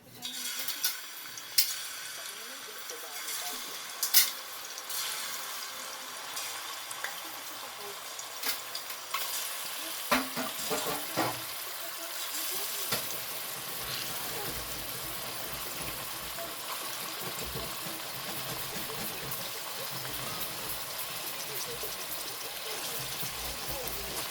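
Prawns marinated in turmeric and salt fry in hot oil, giving a steady loud sizzle that swells after they drop into the pan, with occasional stirring clatter and brief spoon knocks early on.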